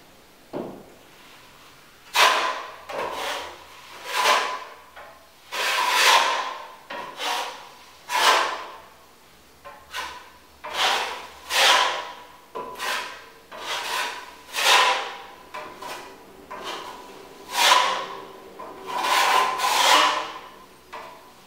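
Paint roller strokes laying a second coat across a wall, a steady series of rhythmic rasping rubs, close and fairly loud, one after another with short pauses between, no talking.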